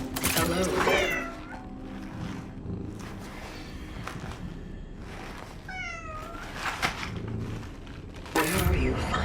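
Cat meows in the video game Cronos: The New Dawn, several short rising calls spread across the clip over a busy game soundscape with footsteps and clanking, the loudest near the start and the end.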